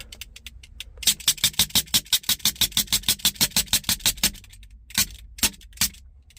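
A knife scraping a concrete floor coating: a rapid series of harsh scraping strokes, about a dozen in quick rhythm, then a few slower separate scrapes, close and loud with no talking.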